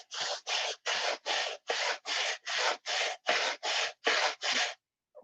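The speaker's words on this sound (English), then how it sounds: "So once again, take your square and I sand with it, cut with it." Twelve even back-and-forth rasping strokes as a square is used to sand a control line stunt model cowl, close and rhythmic, ending in silence.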